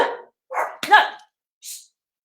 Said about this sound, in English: Sorry, I've got dogs with me.